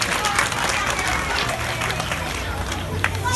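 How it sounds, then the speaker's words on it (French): Pupils seated at a school excellence-day ceremony receive a dense wash of audience applause, steady and loud throughout with crowd noise mixed in. "Ils sont là assis et ils méritent vos applaudissements"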